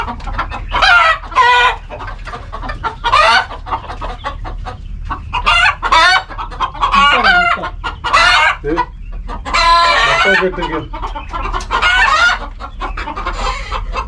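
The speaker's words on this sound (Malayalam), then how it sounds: "പൂവൻ കോഴി പിടക്കോഴി ഒക്കെ ഉണ്ട് കേട്ടോ" Native roosters and hens cluck loudly and close by in repeated bursts, with a rooster crowing among the busy, overlapping calls of the flock.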